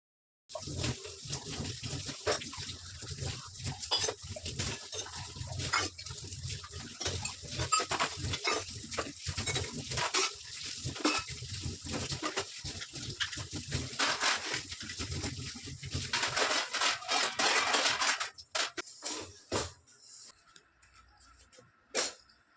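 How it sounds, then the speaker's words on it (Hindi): Dishes being washed in a home kitchen in the morning, with running water, clinking utensils and scrubbing close by, continuing steadily for about twenty seconds before tapering off near the end. "अब मैं जो है रसोई में आ गई हूँ और अब धोऊँगी बर्तन"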